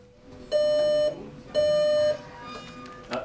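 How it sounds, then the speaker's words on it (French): A transformer temperature alarm in a power control room beeps in two long steady tones, each about half a second, followed by fainter shorter electronic beeps. "Alarme température nord-ouest sur le TR4. Une alarme s'allume."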